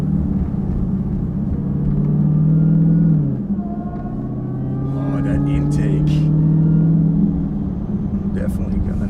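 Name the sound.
muscle car engine rumbling while driving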